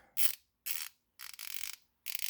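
An Eastwood 1/2 inch drive flex head ratchet, reassembled after a teardown, clicks in four quick bursts of rapid ratcheting, close and fairly quiet, with short silences between.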